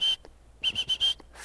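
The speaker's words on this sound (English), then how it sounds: "3 or 4 continuous pips on the whistle" A dog training whistle gives one short pip, then after a pause four quick continuous pips in a row, each shrill and clear in a quiet outdoor setting.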